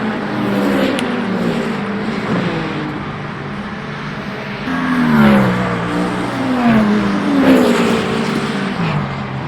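Race cars, among them a Porsche, roar past in a Le Mans Ultimate multiclass race, with loud, continuous engine drone and pitch sweeps as the cars accelerate and shift, rising again as another car closes in.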